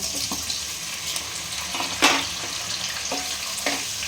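Chopped tomato frying in a pan as part of a matar paneer dish, a steady broadband sizzle with a few sharp spatula scrapes and taps scattered throughout, moderately close and with no talking.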